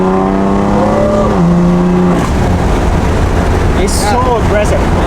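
A BMW F82 M4 fitted with a new exhaust roars loudly and close, its engine tone climbing then dropping as it revs, with voices talking over it.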